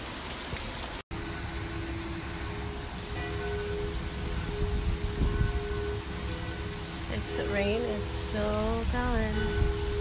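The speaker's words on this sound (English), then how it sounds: "the worst rain I've seen in my entire life" Heavy rain pours steadily during a spring storm in Mallorca or Italy, a dense constant hiss of drops on surfaces, with a brief dropout near the start and faint tonal sounds breaking through later.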